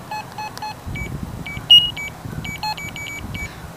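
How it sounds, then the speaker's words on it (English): Several short, high electronic beeps in irregular bursts from a small Sudoku toy with a music player, some tones repeating, over a low background rumble; fairly close and clear. "It makes beeping noises."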